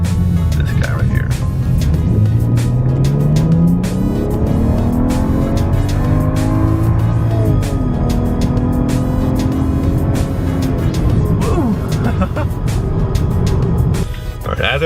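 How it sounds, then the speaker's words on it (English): A BMW 335 engine revs hard and climbs steadily in pitch during a rolling acceleration, loud and close throughout, with brief tire noise near the end. "here's a rolling acceleration"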